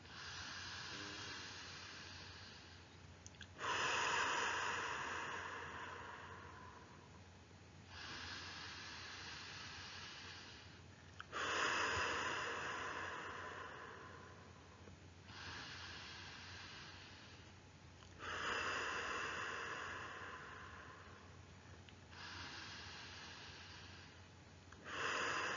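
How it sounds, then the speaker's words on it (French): Slow guided breaths in a sophrology relaxation session, each long airy inhale and exhale rising and falling in a steady cycle of about four seconds, close and soft with no talking. "Inspiration. Expiration. toute seule maintenant."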